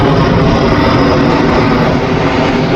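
An airplane flies overhead near an airport in Switzerland, a loud, continuous broadband engine roar that fills the whole clip without letup and with no talk.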